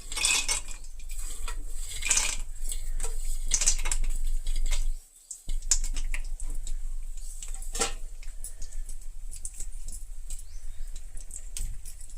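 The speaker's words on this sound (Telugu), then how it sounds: "ఆయిల్ కాగింది కదా పల్లీలు వేసుకుందాం" Peanuts dropped into hot oil in a pan: a steady, close crackling sizzle with scattered sharp clinks and pops, a brief near-silent gap midway, then the frying crackle continues evenly.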